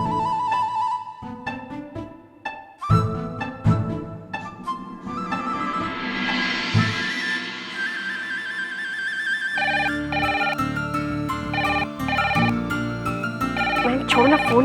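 A phone ringtone plays loudly as a melodic electronic tune, swelling and changing over several seconds, with brief voices underneath during a television drama scene.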